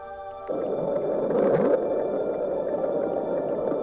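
The "Bloop" ocean recording: a low, droning underwater rumble with a brief rising swoop in the middle, alone with no voices.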